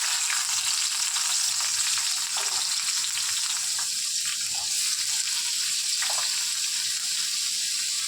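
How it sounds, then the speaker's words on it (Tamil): Tomato, raw mango, green chilli and garlic sautéing in a little oil for manga thokku, giving a steady, close, bright hiss of frying with faint stirring throughout and no voices. "இது எல்லாத்தையும் நம்ம லைட்டாக எண்ணெய் ஊற்றி வதக்கிக்குவோம்."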